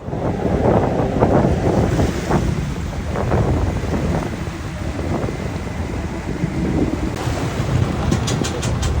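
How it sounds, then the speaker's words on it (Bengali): Strong gusting wind buffets the microphone over the rush and slap of waves on the Pashur River, loud and continuous throughout. "পশুরে এসে দেখি এখানেও তুমুল বাতাস ঢেউ স্রোত"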